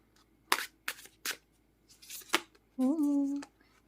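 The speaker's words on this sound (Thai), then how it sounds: "ไพ่นี้ค่อนข้างสับยาก" Tarot cards being shuffled by hand as a few short, papery riffles and snaps, close and fairly quiet, followed by a brief tonal sound near the end.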